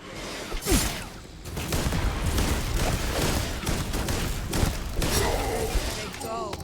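A Mag Pulse weapon fires in the sci-fi game Starfield during the Shattered Space DLC, a rapid volley of energetic shots and booming impacts over a dense battle bed, with some whooshing sweeps and faint voices mixed in.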